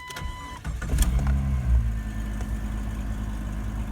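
A 1999 Jeep Cherokee XJ cranks with a brief whirring starter and catches into a low, steady idle rumble that stays close and loud to the end, with no talk.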